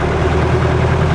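Perkins diesel engine in an original Ford Thames minibus idling steadily, a loud, close, even low rumble with a constant hum and no breaks.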